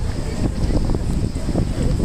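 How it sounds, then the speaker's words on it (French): Wind buffets a handheld microphone on a Tokyo street at the end of the day, a steady, loud low rumble that fills the whole stretch without a break. "Oh le vent."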